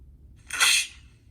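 A single sharp sneeze bursts out close and loud against a quiet, low background hum, lasting under a second.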